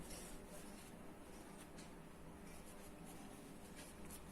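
Chalk or marker scratches steadily across a classroom board during a physics lesson, a faint continuous scraping with soft repeated strokes over a hissy room tone.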